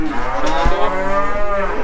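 Cattle being brought in for sorting calves from cows and heifers give a loud, close, drawn-out moo lasting nearly two seconds, with faint background clatter and no talking.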